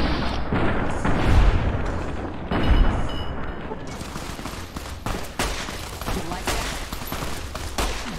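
Gunfire in the video game Fallout: New Vegas, loud bursts of rapid shots and heavy booming blasts crowding one another, with dense battle noise continuing between volleys.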